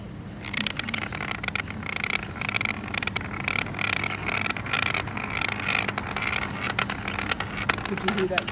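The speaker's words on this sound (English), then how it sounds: "Could you hear that car?" A car approaches along a street and slows, its tire and engine noise rising and swelling nearby amid steady outdoor traffic ambience.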